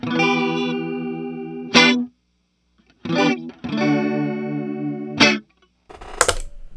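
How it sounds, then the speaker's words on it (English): An electric guitar played through a chorus effect pedal with no reverb rings out in sustained shimmering chords, each cut off sharply by a strummed attack, with gaps of silence between phrases. "I'm not used to hearing the chorus without a reverb after"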